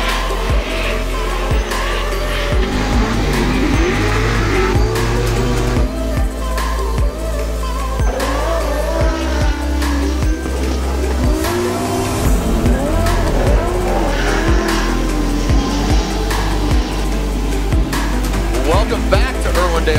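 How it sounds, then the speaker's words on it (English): Formula Drift race cars at Irwindale, California, including a GT Radial 350Z, warming up GT Radial tires with loud sustained squealing and revving engines, under continuous commentary. "warming up his GT Radial tires, rounding out that GT Radial trio"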